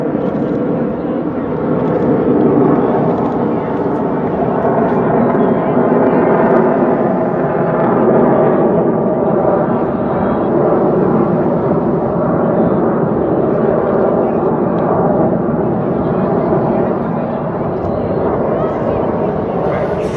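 Military jet aircraft at the 2017 Chicago Airshow roar overhead in a sustained, broad rumble that swells and fades slightly, with an announcer talking over it throughout.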